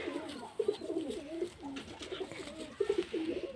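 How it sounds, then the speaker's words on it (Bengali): Red-tailed (lal dom) pigeons coo in repeated soft, throaty phrases, close but low in level, over steady background noise. "পায়রাটা দেখো"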